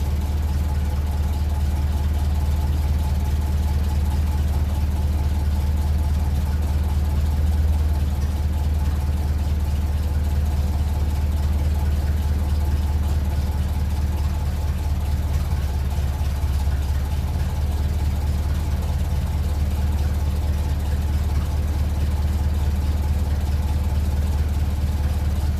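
A 1957 Ferguson 35 tractor with a TVO engine idles just under 600 rpm, a steady, deep, rumbling drone that holds evenly and loudly throughout with no talk over it.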